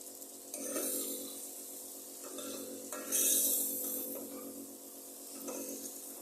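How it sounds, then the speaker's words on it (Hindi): Masala with round tomato slices being fried and stirred for aloo gosht: faint, low-level scraping and stirring swishes in irregular bursts over a quiet, gentle sizzle. "अब इसमें ऐड कर अच्छी तरह इसकी भुनाई करेंगे।"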